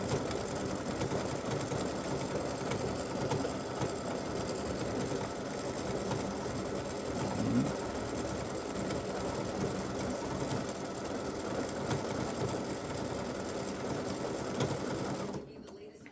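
An embroidery machine stitches a free-standing lace awareness ribbon with a steady, fast mechanical whir that runs unbroken near at hand and stops abruptly at the very end.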